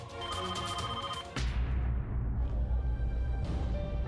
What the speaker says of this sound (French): C'est vraiment bizarre. Personne ne répond au téléphone.